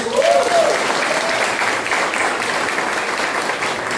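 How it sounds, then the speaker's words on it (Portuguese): A church congregation claps for Jesus during a Sunday evening service, with steady dense applause throughout and a faint voice briefly audible at the start. "Você pode aplaudir a Jesus."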